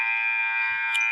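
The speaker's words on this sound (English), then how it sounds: "The final buzzer has sounded." A sustained electronic buzzer in a high school boys' basketball gym, one steady flat tone holding throughout at moderate level.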